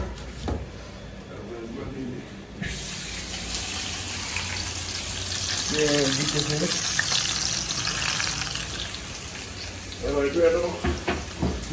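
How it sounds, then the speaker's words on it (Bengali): Onions hit hot oil and burst into a loud, continuous sizzle that rises abruptly and keeps going, while people talk over the cooking. "পেঁয়াজগুলো তেলের মধ্যে দিয়ে দিই"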